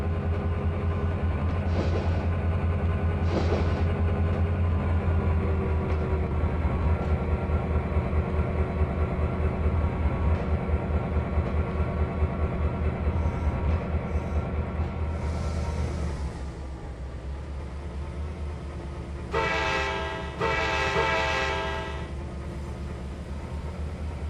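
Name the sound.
train pulling boxcars in the video game Trainz 2022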